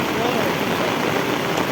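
Heavy rain pours down in a village, a dense, loud and steady hiss of drops striking the ground and water, with no break over the short stretch.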